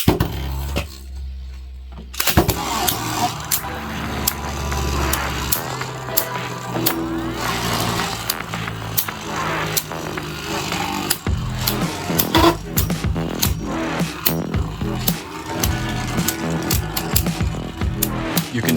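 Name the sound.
Beyblades battling in a stadium, bearing driver spinning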